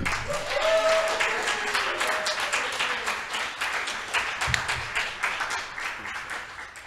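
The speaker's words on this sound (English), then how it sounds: "So I want to give him a round of applause for Dr. Chezeray Moore." Audience applause at a creative writing showcase, a broad wash of clapping that is strongest early on and gradually thins out, with a brief voice audible near the start.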